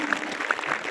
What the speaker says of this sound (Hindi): ताली बजाओ अपने आप के।